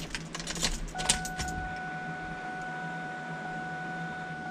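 Car ignition keys for a 300+ hp Mustang GT jangle close up in a quick burst of bright metallic rattles over the first second and a half, followed by a steady electronic tone with low background hum.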